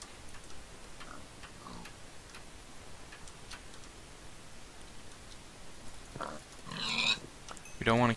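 Pigs in a Minecraft-style video game give a few short grunts near the end, over faint game ticking and background ambience.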